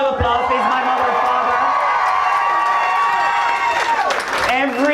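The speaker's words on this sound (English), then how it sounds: "Can we give her a round of applause, please?" Crowd at a Pride parade event applauds and cheers loudly and steadily throughout, with whoops and a dense wash of voices; the clapping swells briefly near the end.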